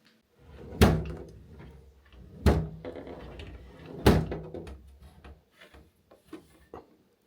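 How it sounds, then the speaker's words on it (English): A stick shoves a wooden cupboard that is blocking a door, giving three heavy knocking thumps about one and a half seconds apart, each with a scraping rub of wood. Smaller bumps and scrapes follow as the pushing continues. "I'm going to have to see if I can use a stick to push the cupboard through the tiniest of cracks."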